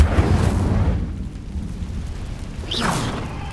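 An Incendio fire spell is cast in Hogwarts Legacy, giving a loud, roaring whoosh of flame that fades into a crackling rumble. A brief rising magical swish follows near the end.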